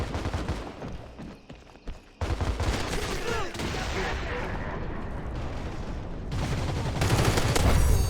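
Gunfire in the CrossfireX video game, a dense stretch of rapid shots and bursts with explosive booms, loud throughout and swelling toward the end, with a player talking over parts of it.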